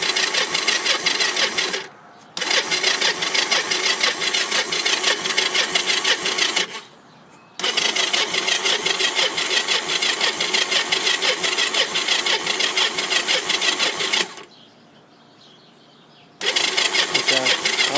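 Three-wheeler engine being cold started: long bursts of the starter cranking with the engine trying to fire, broken by three short pauses, loud and close.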